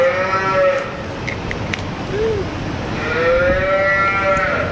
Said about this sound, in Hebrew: איך הפרה עושה?